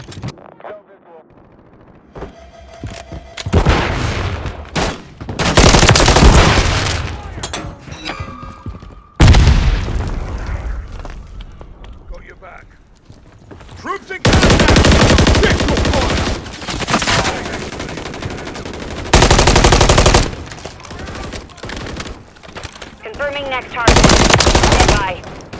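Heavy automatic gunfire and booming blasts from Call of Duty MW III multiplayer, arriving in loud sustained bursts separated by quieter stretches, with a shouted voice over the action.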